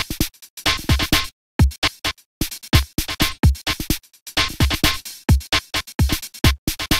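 At the start of a song in a PS1 rhythm game, a few looped samples play as sparse, punchy electronic hits in a choppy beat with short silent gaps between them.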